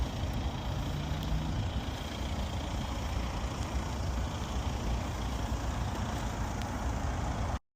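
An Audi A4 35 TDI diesel on a test drive produces a steady low engine drone mixed with broadband road and cabin rumble, continuous and fairly loud, cutting off abruptly at the end.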